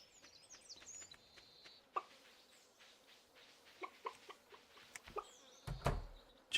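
Chickens in Stardew Valley cluck and chirp softly against a quiet backdrop, with scattered clicks and thumps and a louder knock near the end.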